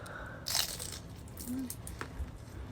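Crunching bites into chicharon bulaklak, a boiled then deep-fried pork fat snack, heard as two short, crisp bursts about a second and a half apart over faint background chatter.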